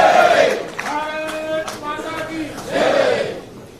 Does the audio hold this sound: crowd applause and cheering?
yes